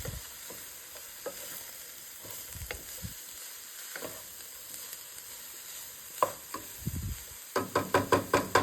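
Vegetables sauté in a pan for a Korean bowl, giving a steady broadband sizzle with scattered scrapes and knocks of stirring, and a run of sharp clacks near the end; no one speaks.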